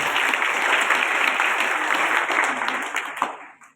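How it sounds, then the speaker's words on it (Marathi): Audience applause at a Marathi kirtan, steady and dense for over three seconds before tapering off into quiet. "सर्वांनी टाळ्या वाजवा."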